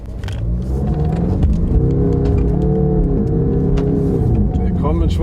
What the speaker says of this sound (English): So full throttle.